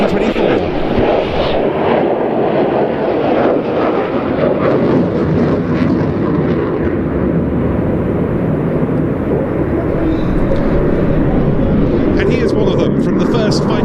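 A Block 70 F-16C Fighting Falcon built by Lockheed Martin roars past at an air show, a loud, steady jet rumble sustained throughout with wind buffeting, a brighter whine rising near the end.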